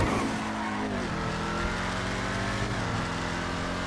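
Vapid Dominator ASP muscle car driving in GTA Online with low-grip tires, a steady loud engine drone that dips and rises as gears shift.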